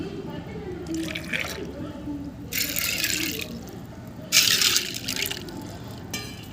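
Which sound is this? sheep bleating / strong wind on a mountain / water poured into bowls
water poured into bowls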